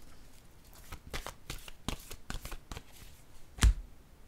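Playing cards shuffled and drawn for a tarot reading, a run of soft riffling flicks and slides close by, ending in a sharp card snap, with no talk.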